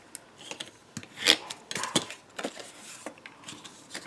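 Folded paper pieces of a tiny matchbox suitcase being burnished by hand, giving soft rubbing and scraping strokes in short irregular bursts, close and quiet, with no talk.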